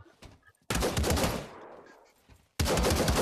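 Close, loud automatic gunfire in the VR shooter Pavlov: a sustained burst that tails off, a brief silence, then another burst starting abruptly at the end.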